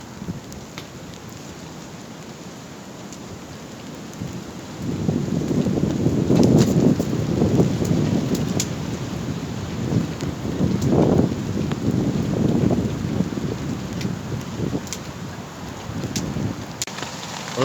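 Wind gusts and sleet patter through a woodland wild camp during a winter storm, steady at first, then swelling into louder, rougher gusts over the middle before easing slightly, with no talking.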